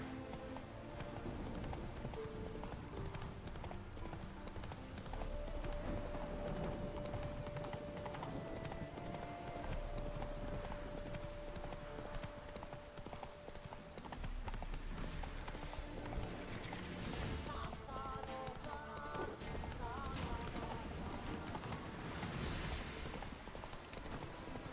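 Hoofbeats of the horse Roach galloping in The Witcher 3, a steady rhythmic clip-clop running the whole stretch over a busy game soundscape, with a brief whinny and no talk.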